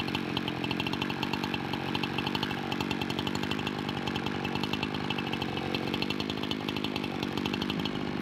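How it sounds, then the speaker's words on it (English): Chainsaw on a portable chainsaw mill idling to cool down after milling a big log, a steady, even two-stroke putter with a fast rhythmic pulse, close and continuous with no speech. "not shut the saw off right away. I think that it needs a little bit of time to idle and cool down"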